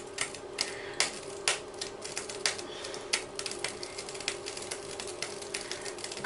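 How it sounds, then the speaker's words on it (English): Oil in a frying pan spits and crackles in sharp, irregular pops over a continuous sizzling hiss, close by. "Now the frying pan is spitting,"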